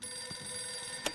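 A telephone rings inside a library, a continuous bright electronic tone holding steady at moderate volume over quiet room noise, with a brief click near the end.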